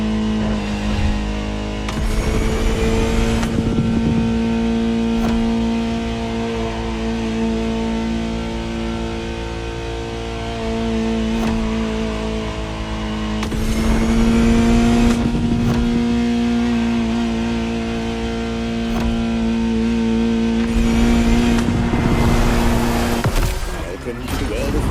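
A Ferrari supercar engine in a PS5 racing game roars steadily at high revs, climbing and falling through repeated gear shifts with a sustained, loud mechanical drone.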